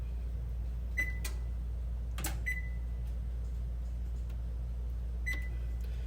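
An oven's control panel gives short electronic beeps, a few separate tones spaced across several seconds, as it is set to broil, over a low steady kitchen hum.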